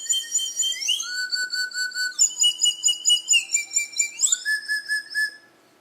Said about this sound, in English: you plug the end of the hole and it would just be a little whistle